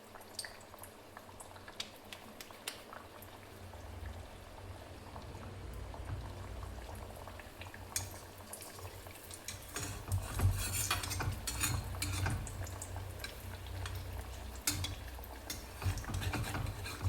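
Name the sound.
puris frying in hot oil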